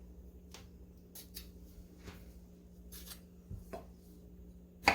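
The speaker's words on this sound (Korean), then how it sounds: "그냥 이렇게 얄팍얄팍하게 썰어서 하잖아요" A knife slices pickled cucumber (oiji) thinly on a cutting board, giving a few faint, scattered cuts over a steady low hum with no talking.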